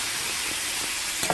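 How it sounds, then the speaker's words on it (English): Minced ginger sautéing in a pan gives a steady, close hiss of frying oil, even and unbroken for the whole moment. "I saute it a little."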